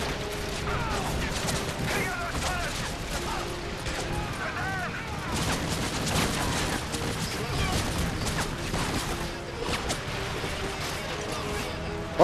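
Call of Duty gunfire plays throughout the stretch: dense, overlapping bursts of shots and explosive cracks over a continuous background of battle noise, with the pace staying busy and loud to the end.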